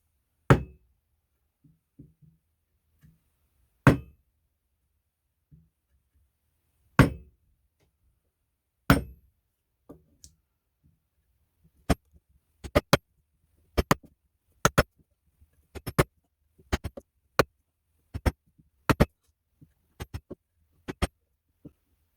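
A wooden mallet drives a mortise chisel into wood: a handful of slow, well-spaced knocks, then a quicker run of about fifteen sharp, hard blows, close and dry, with no voices.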